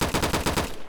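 Rapid automatic gunfire from a custom-built weapon at a shooting range in the ER2 modding game, a fast burst of about six sharp shots in steady rhythm, loud and close with no talking.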